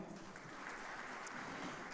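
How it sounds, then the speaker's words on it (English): Faint, steady audience clapping at a hotel managers' conference in Africa, a soft continuous patter heard from a distance with no voices. "You want to clap right here?"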